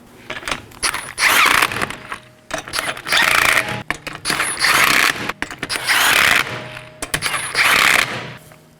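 Four or five bursts of ratcheting clicks from a hand ratchet with a 19mm socket, snugging wheel lug nuts in a crisscross pattern on a 2019-2024 Chevrolet Equinox, each burst separated by brief pauses, close and fairly loud.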